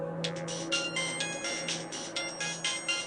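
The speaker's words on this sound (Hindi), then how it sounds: "तभी मोबाइल रिंगटोन सुनकर उसका ध्यान टूटा।" A mobile phone ringtone plays continuously, a bright repeating melodic pattern with steady tones, clear and close, no talking.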